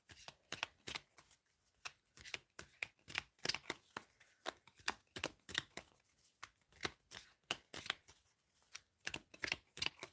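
Tarot cards shuffled for a reading, soft, close papery flicks and riffles in quick uneven bursts with brief pauses between, faint and alone without any speech.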